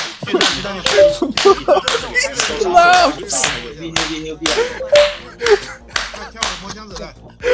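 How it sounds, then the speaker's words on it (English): Rapid, rhythmic hand slaps on a knee, close and sharp, repeating steadily with some vocal sounds mixed in. "slapping his knee"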